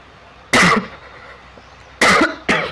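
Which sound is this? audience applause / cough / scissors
cough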